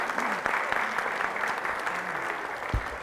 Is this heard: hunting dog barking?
no